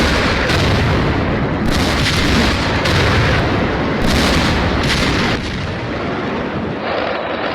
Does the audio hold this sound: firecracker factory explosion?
yes